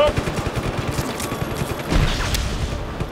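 Rapid gunfire bursts from Just Cause 3 rattle in a dense, continuous barrage of close shots, with a heavier boom near the middle and game noise layered underneath.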